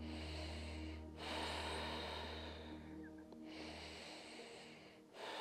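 Slow, deep breaths during a prenatal yoga session, heard close and fairly quiet: long drawn inhales and exhales separated by brief pauses, over a low steady hum.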